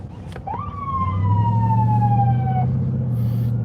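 Police car sirens wail from a long caravan of cruisers in rural Ohio, a loud descending tone sweeping over steady low vehicle rumble, close and continuous.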